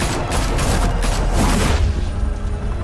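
Loud bursts of gunfire and booming blasts from a Batman Telltale Series video game, rapid shots crowding together before fading into a low rumbling tail.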